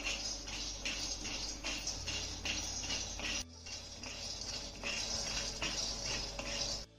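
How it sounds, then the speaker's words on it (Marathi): Peanuts roasting in a kadhai, with a spoon or spatula scraping and rattling them against the metal pan in a steady, repeated stirring rhythm, at a low level, clear and close. "आता हे शेंगदाणे आपल्याला छान असे खमंग खरपूस भाजून घ्यायचे."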